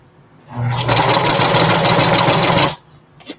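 A sewing machine stitching the brim of a reversible bucket hat, one fast continuous run of rapid needle clatter lasting about two seconds, close and without talk.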